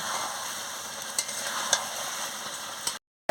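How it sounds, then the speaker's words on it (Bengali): Chicken curry with khamalu yam and spices is stir-fried in a pan, giving a loud, even sizzle with a few faint stirring clicks before it cuts off abruptly. "ঢাকাটা খুলে আমি ভালো করে কষিয়ে নিচ্ছি"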